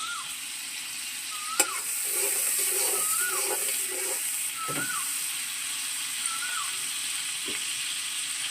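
Pointed gourd sizzles in hot oil in a wok with a steady frying hiss, and a few soft scrapes and knocks come through as the pieces are stirred. No one speaks.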